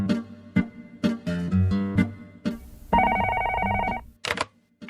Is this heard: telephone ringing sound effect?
yes